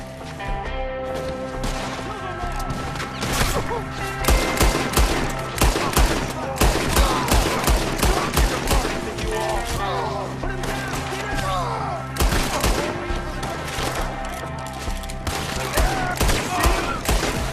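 Red Dead Redemption 2 gunfights rattle with dense volleys of rapid gunshots, loud and close, repeating in bursts over a sustained, chaotic stretch. Game voices can be heard shouting amid the shooting.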